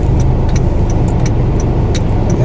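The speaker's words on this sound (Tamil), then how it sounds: "So wait, let that bus go." A bus goes by on a city road at night amid steady traffic, its engine a continuous low rumble that stays loud and even throughout, with faint ticking clicks above it.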